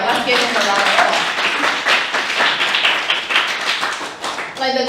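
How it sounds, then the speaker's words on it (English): A small group at a Toastmasters-style club meeting gives a round of clapping, dense close hand claps continuing for several seconds with speech mixed in. "let's give him a round of applause"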